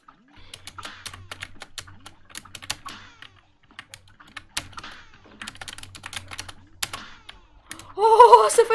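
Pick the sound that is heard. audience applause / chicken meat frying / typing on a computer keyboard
typing on a computer keyboard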